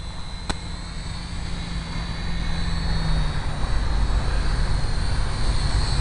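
A small aircraft drones steadily in flight, its engine noise a continuous broadband roar that swells slightly louder midway, with no voices over it.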